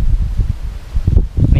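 Wind gusts buffet the microphone at a riverside campsite beside the Agno River, producing low rumbling bursts in uneven pulses, loud and close, with no clear speech over them.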